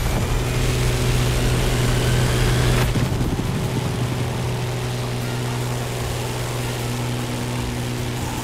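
An aerobatic plane in The Crew Motorfest racing through a canyon and city at low altitude, a loud, steady propeller engine drone with a strong low hum that eases slightly after a few seconds, no talk.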